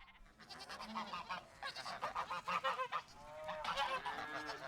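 Geese in the farm game Farm Manager 2021 honk in a rapid, overlapping flurry of nasal calls, loud and close, with a brief pause before a second burst of honking.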